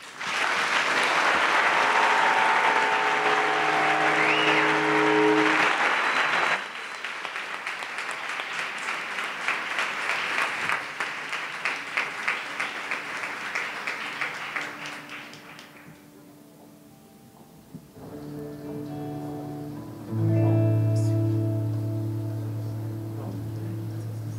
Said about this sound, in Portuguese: nós agradecemos muito aos dois, com uma grande salva de palmas.